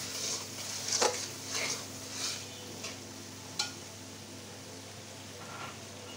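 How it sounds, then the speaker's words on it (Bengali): Spice paste sautéing in a pan, a soft continuous sizzle under a few scraping stirs and light knocks of a utensil against the pan, close but quiet. "মশলা ভালোভাবে কষিয়ে নেব।"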